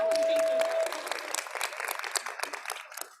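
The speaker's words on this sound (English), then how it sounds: "Give Claire a hand clap" Audience applause for Claire at a mental health first aid session, a dense burst of many hands clapping that is loudest at the start, then thins into scattered claps that fade out while a steady tone and a voice sound briefly at the beginning.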